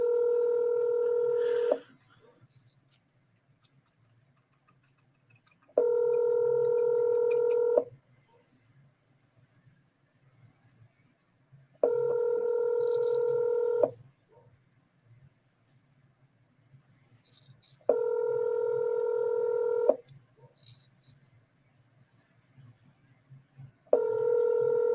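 Telephone ringback on an outgoing call, a steady two-second ring repeating every six seconds with silent gaps between, five rings in a row, clear and alone.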